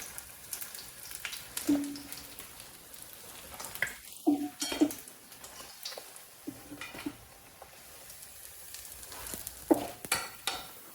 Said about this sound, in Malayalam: അടുത്തത് വറക്കിയിടാം. 4 പീസ് വെച്ചിടാം.